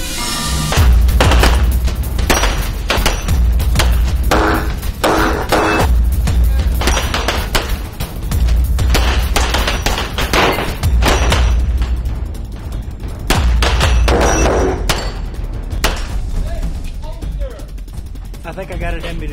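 Rapid strings of loud pistol shots ring out during a timed speed-and-accuracy shooting challenge at a military competition, bursts separated by brief pauses, with people talking between volleys.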